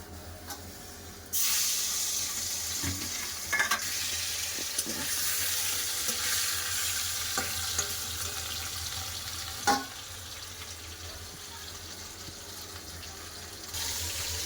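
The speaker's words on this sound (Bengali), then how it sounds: "বাকি মাছগুলো ভেজে নেবো একটু" Fish fries in hot oil in a pan with a steady, even sizzle that starts after a moment and runs on, broken by a few faint clicks and clatters.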